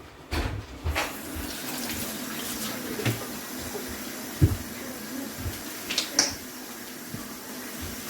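Tap water runs into a sink while used jam jars are washed, a steady faint hiss of flow with occasional clinks and splashes, low and continuous throughout.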